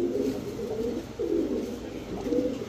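Lal Gorra pigeons coo in low, throaty rolling phrases, two or three close calls repeating over a steady background hum.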